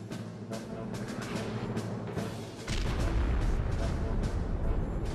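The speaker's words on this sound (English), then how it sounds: "Explosions going off." Explosions and artillery fire in the video game Army Men of War during a trench assault, repeated booms and blasts building into a heavy, continuous rumble.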